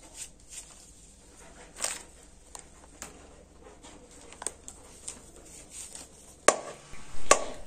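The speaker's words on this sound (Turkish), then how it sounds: "Sonra yıkamış olduğum mantarlarımı doğruyorum." A knife chops washed wild mushrooms picked in the mountains, giving sparse, irregular sharp taps on a board, mostly quiet with a brief cluster of louder cuts near the end.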